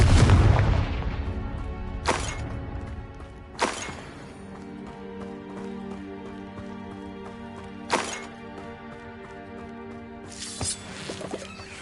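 Explosive Confringo spell blasts from the video game Hogwarts Legacy, several sharp booming bursts a few seconds apart over a steady game soundtrack, loud and punchy against the quieter ambient hum between them.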